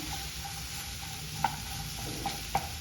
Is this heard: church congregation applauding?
no